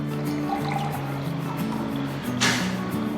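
Boiled milk sweetened with sugar is poured into a tumbler for dalgona coffee, making a continuous liquid trickle over a steady background hum, with a brief louder splash near the end.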